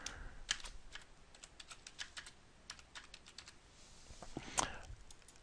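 A password being typed on a computer keyboard: quiet, close, irregular key clicks scattered over a few seconds, ending with a sharper, louder keystroke.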